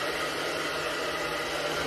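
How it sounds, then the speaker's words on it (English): A hair dryer blows steadily on a pet, a close, even rushing hiss with a low motor hum beneath it and no talking. "Do you like the hair dryer?"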